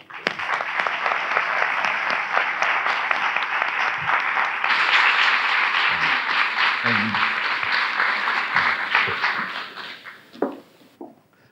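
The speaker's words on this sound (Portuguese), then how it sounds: "Uma salva de palmas, por favor, para Isabel Rio Novo." An audience at a literary talk event in Porto gives a sustained, dense round of applause lasting several seconds, steady and full before tapering off at the end, with faint voices and a few low thumps underneath.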